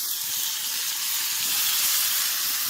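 A steak sizzles in melted butter in a pan over a campfire, producing a loud, steady, dense hiss that holds constant throughout without any talking.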